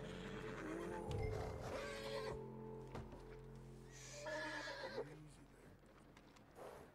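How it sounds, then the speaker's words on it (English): A horse in Red Dead Redemption 2 whinnies and snorts close by while hooves clop, mixed with game ambience and a rumbling background bed, with a voice talking over it. "Got my own horse now."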